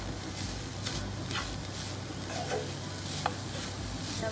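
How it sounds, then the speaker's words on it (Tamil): Jaggery and grated coconut are stirred together in a pan over a medium flame. A spoon scrapes and stirs with soft intermittent strokes over a faint sizzle, quiet and close, with no talking. "அது வரைக்கும் கொஞ்சம் மீடியம் ஃப்ளேம்லேயே வச்சு வதக்கி விட்டுக்கோங்க"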